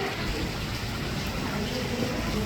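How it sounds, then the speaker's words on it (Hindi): Rain falling in Jodhpur, a dense, steady hiss of drops on surfaces, continuous and fairly close for the whole moment. "तो अब देखिए बारिश हो रही है।"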